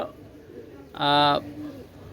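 Pakistani pigeons offered for sale give a single short coo, loud and close, set against a quiet background with faint murmuring.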